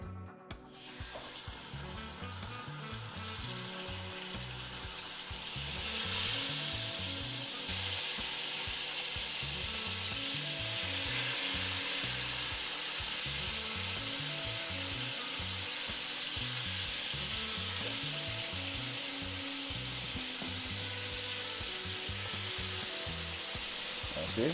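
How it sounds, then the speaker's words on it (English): Turkey neck meat sears in a hot pan with a loud, continuous sizzle and crackle, punctuated by bursts of popping and stirring clatter, with no talking. "now we're going to put the meat inside of this to sear"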